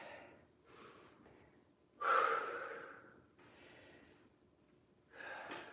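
Heavy breathing during a split squat workout, a few loud, forceful exhales and gasps spaced a second or two apart, close to the microphone and alone.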